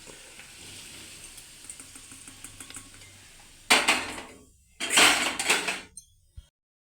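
Chillies frying in a pan on a home stove, quiet at first, then two loud bursts of scraping and clattering as a spoon stirs them, each fading into a low sizzle.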